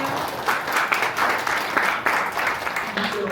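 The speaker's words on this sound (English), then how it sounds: "let's have a round of applause to Ms. Nora" Audience applause at a Kyushu University forum in Singapore, a steady wash of clapping across the whole short stretch, moderately loud and unbroken, with no voices over it.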